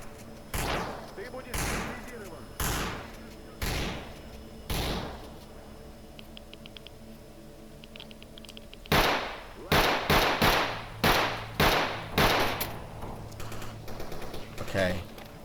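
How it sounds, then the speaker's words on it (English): Gunfire in the S.T.A.L.K.E.R. video game: loud, sharp single shots spaced about a second apart, then after a quieter stretch a faster, denser volley of cracks, with a low background hum throughout. "someone's shooting at me from behind"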